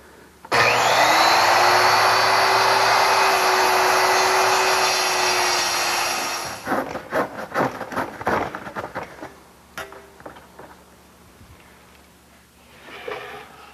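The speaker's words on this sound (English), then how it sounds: "I'm going to use my circular saw to cut that piece out" A circular saw rips through a wood panel guided by a straight edge clamp: a loud, steady motor whine and cutting roar holds for about six seconds, then winds down into clattering knocks and handling noises in a workshop.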